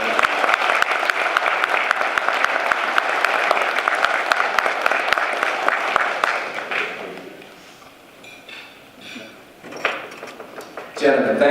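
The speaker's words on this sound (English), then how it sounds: "Let's give them another round of applause." A crowd claps steadily for several seconds, then the applause fades out and a few voices and scattered sounds follow.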